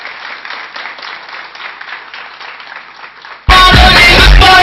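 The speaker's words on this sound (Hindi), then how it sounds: "शेप्स ऑफ के लिए तालियां हो जाएं दोस्तों।" An audience at a Safe Shop conference claps steadily for several seconds, thin and slightly distant, then a much louder, harsher full-range burst of crowd noise abruptly takes over.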